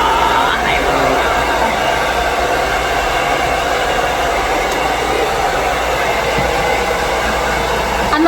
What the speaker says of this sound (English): get them used to the hair dryer,